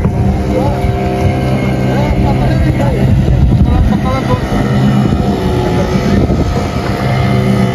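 A motorboat engine drones steadily and loudly on a boat ride toward Suvarnadurg fort near Dapoli, with wind buffeting the microphone and faint voices under the engine.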